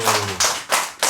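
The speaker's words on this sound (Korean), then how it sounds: "박수를 세게 치는 이유가 있나 보다요" Hands clapping hard at a Buddha's Birthday Dharma service, three sharp, loud claps spaced evenly and close by, with a brief voice trailing off at the start.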